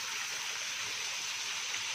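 Chicken liver sizzles in hot oil, a steady, even hiss of frying heard faintly and alone, with no talk over it.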